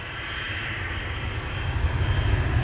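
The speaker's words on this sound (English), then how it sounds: "This is KLM flight 1959 to Istanbul, a 737-800" KLM Boeing 737-800, a 16-year-old jet departing Amsterdam Schiphol for Istanbul, with a deep engine rumble building steadily louder over a few seconds, no voices.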